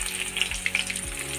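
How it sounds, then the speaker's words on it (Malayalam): Garlic fries in hot oil in a pan, a close, continuous crackling sizzle across a short stretch with no voices. "നമ്മൾ ഇനി അതിലേക്ക് വെളുത്തുള്ളിയാണ് ഇടാൻ"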